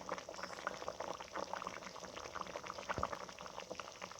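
Prawn malai curry bubbles steadily in a pan, a close, continuous simmering boil with dense popping and sputtering and no talking over it.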